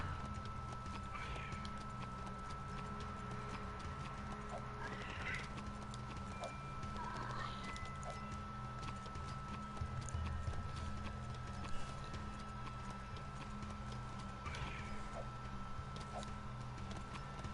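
A Leaper creature mount runs in the video game Jak 3, its quick, steady hoof-like clip-clop footfalls continuing throughout over a dense background of game ambience.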